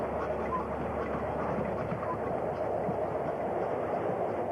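A steady, loud rumble of an XPT passenger train at a Melbourne station, continuous throughout with faint bird calls and no clear talking.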